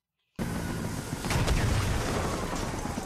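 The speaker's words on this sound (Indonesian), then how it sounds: "tepat saat itu mereka terkena dampak dorongan akibat ledakan dari roket itu" A rocket explosion in a zombie movie set around Las Vegas bursts in suddenly after near silence, then continues as a loud, sustained rumbling roar with a heavier surge midway before it cuts off.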